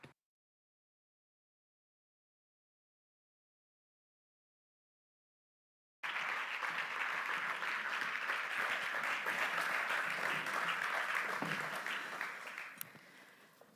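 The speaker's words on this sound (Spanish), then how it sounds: "Aplausos." An audience at a literary conversation event breaks into applause after six seconds of silence, a dense sustained clapping that holds steady, then thins and fades toward the end.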